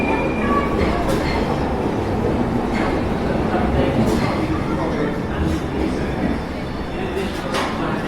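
A subway train rumbles steadily along the tracks with rattling wheels and faint squeals, a continuous loud ride-along roar from start to end in an animated scene.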